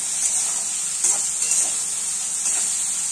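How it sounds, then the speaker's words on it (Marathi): Tomatoes fry in hot oil in a home kitchen pan while okra cooks, giving a steady high bright sizzle across the whole clip with a few soft stirring or shifting bumps and no talking. "हे जे टोमॅटो आहे ना, हे तेलात टाकून मस्तपैकी नरम पडेपर्यंत शिजवून घेऊया"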